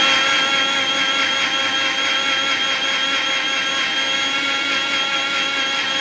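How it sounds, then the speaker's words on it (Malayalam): A mixer grinder whirring loudly and steadily, grinding a paste of coconut, turmeric, chili and coriander powder for a mackerel curry, a continuous close motor whine with no pauses or talk. "ഇത് മൂന്നും കൂടെ മിക്സ് ചെയ്തിട്ട് നമുക്കിത് അരച്ചെടുക്കാം"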